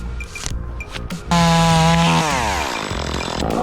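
A chainsaw cuts into a tree and starts suddenly at full, steady roar after a quieter opening of outdoor rustling, then holds a loud, close whine with a slightly falling pitch.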